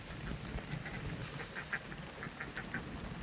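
Domestic geese in a forest garden honking and quacking at a moderate distance, a scatter of short nasal calls repeating irregularly over steady outdoor background noise.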